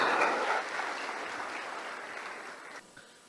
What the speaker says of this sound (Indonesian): mohon aplaus untuk perusahaan kita Tiens International